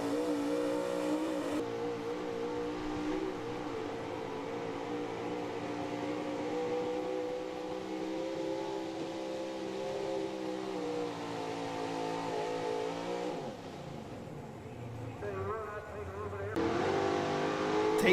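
A 1979 Chevy pulling truck called the Flying Farmer roars at full throttle during a truck pull, its loud sustained engine holding a high pitch before dropping off briefly and then revving back up.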